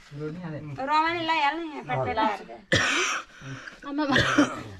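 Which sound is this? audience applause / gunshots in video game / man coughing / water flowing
man coughing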